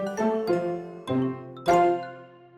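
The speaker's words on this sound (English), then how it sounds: "hit the notification bell for more mind-blowing science content from Science Kalp" Notification bell chime sound effect, a series of four bright ringing dings with lingering metallic overtones, evenly spaced and clear with no voice over it.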